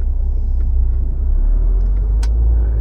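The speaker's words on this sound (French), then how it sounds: "On va laisser passer le petit Nissan." A small Nissan car passes on a road in autumn, a steady close rumble of engine and tyres that holds for nearly three seconds with no talk.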